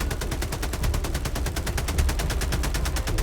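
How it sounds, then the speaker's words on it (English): Liberator assault rifle from Helldivers 2 firing in one long unbroken full-auto burst, rapid evenly spaced loud shots without pause and no voices. "The Liberator variants literally use the same shooting sound effect"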